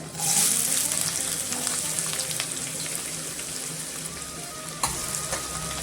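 Steady oil sizzle of garlic and onion frying in a pan, loud and close, with a brief clatter near the end and no voices.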